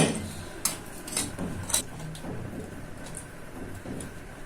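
Semolina rasbora sweets are placed into lukewarm sugar syrup in a pot, giving scattered light clinks and taps of a utensil against metal over a soft, steady background hiss.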